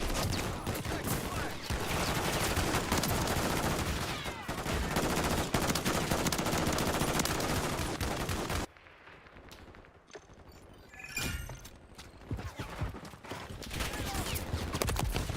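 Dense, continuous automatic gunfire and explosive bursts from a Call of Duty Modern Warfare III multiplayer match, loud and relentless for the first half, then sparser, distant shots and impacts trailing on.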